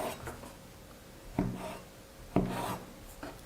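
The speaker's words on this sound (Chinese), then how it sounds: "再从中间切开，然后切成2厘米的宽条状" A knife cutting rolled leavened dough into wide strips on a board, two distinct sharp chops about a second apart amid soft rubbing and handling sounds, close and fairly quiet.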